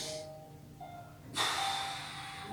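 Someone draws a deep breath during a rural Tabata workout, a soft airy inhale that swells into a louder rush of breath partway through, close and alone without talk.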